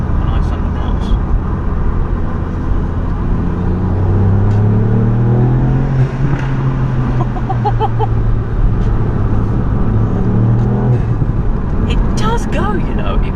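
A Mk8 Fiesta ST's 1.5 litre engine with a stage 1 tune drones and rises in pitch as it accelerates through an underpass, steady and loud throughout, with a person talking over the engine noise.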